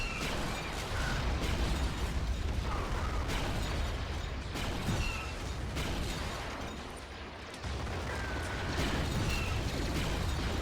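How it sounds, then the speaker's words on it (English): A dense barrage of blaster fire from clone troopers in a Star Wars video game mod set during a beach battle on Kashyyyk, constant overlapping bursts and pops forming a loud, unbroken wall of combat noise with no voices. "the clone troopers are opening up with a massive barrage of blaster fire"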